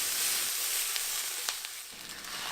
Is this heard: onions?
yes